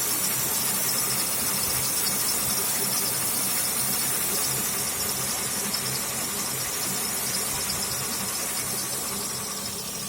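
A 2001 Chevy Venture engine idles just after an oil change, giving a steady, even, hissing rumble with no breaks.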